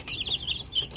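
Young chicks at a farm chirp in quick, high peeps mixed with soft clucking, a steady close chatter with no talk over it.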